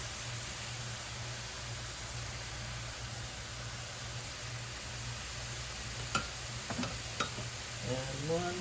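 Ground turkey browns in a hot pan with a continuous, even sizzle, joined near the end by a few scraping stirs of a utensil against the pan.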